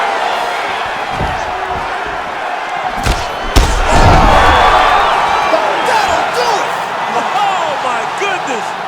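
A large arena crowd in the video game UFC 5 roars and cheers continuously at a fight-ending punch, with a couple of sharp thuds near the start and the noise swelling afterward.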